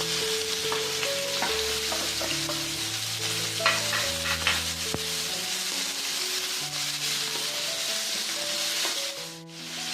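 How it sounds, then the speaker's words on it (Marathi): Onion frying in hot oil for dhaba-style egg bhurji, a dense continuous sizzle with scraping stirs, loud and close, while music plays throughout without talking. "आता यात मी कांदा टाकते।"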